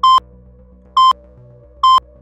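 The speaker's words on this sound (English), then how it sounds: "Bonnie turns at the sound of the alarm" Alarm in a One Piece story scene: three loud, evenly spaced electronic beeps about a second apart, each short and sharp over a faint low hum.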